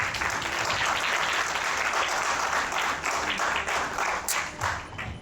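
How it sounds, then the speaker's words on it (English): Steady, full applause from a large audience at a medical congress in Jhansi, sustained without talk across the whole stretch and tapering slightly near the end. "So have a big applause for her."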